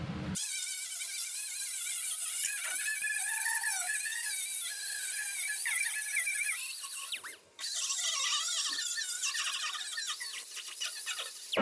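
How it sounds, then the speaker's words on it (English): Angle grinder working the edge of a steel firewall on a 1960-66 GMC/C10 truck, taking it down to bare metal: a continuous high, whining grind held for about eleven seconds, with one brief break near the end. "just real quick grind this edge right past the scribe line down to bare metal all the way around"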